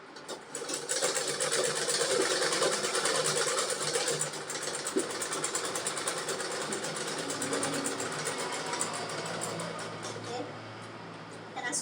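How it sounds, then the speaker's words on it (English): A sewing machine whirs continuously at close range, stitching closed the turning opening of a reversible fabric bucket hat, its steady motor buzz shifting slightly in pace over the run. "I'm going to sew here and close the opening where we turn this hat over."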